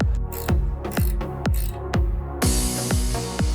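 Ratchet or wrench clicks while a mounting bracket plate is fastened to secure a Melipron platform, with sharp repeated metallic ticks in an even rhythm, close and fairly loud, and no talking.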